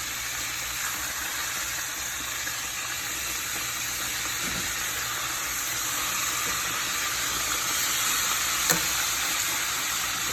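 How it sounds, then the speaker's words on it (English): Chicken pieces frying in hot oil for a homemade Popeyes-style chicken sandwich, a steady, dense sizzle and crackle that holds evenly throughout with a few faint clinks. "Just let it keep frying until"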